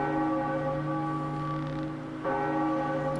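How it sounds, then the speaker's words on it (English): A large church-style bell tolls in The Legend of Zelda: The Wind Waker, ringing loud and near with a sustained metallic hum, then struck again partway through for a second resonant peal. "That's one way to toll a bell."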